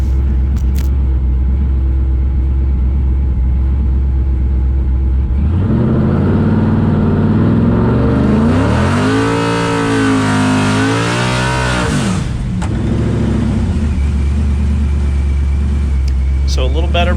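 A drag race car runs a burnout at a strip at night, its loud engine rumble rising into a long, wavering high rev over several seconds before it drops back to a steady idle, with no voice over it.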